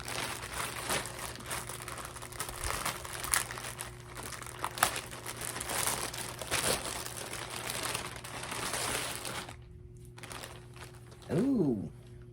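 Plastic bag crinkling as a T-shirt order is unboxed from its package, a steady close rustle lasting several seconds before a brief pause and a short final crackle.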